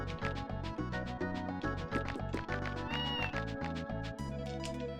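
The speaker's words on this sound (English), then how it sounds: "Sounds like a cat." Cat-like meowing tones come from the Tales of Phantasia JRPG, repeated over a steady, rhythmic music backing with plucked, chiming notes.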